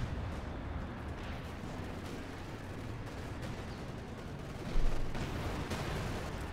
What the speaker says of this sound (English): So much artillery.